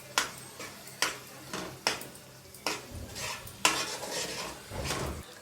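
Chili powder and salt being stirred into tomato pickle in a bowl, a spoon scraping and clinking in repeated close strokes about once per second, with a faint sizzle-like rustle between strokes.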